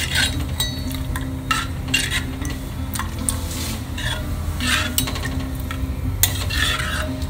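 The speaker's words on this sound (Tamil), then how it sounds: "கை விடாமல் தான் கலரணும்" Rava payasam being stirred in a pot on the stove, a steady scraping and swishing of a spoon against the pot that runs throughout, with faint clinks and a soft sizzling background.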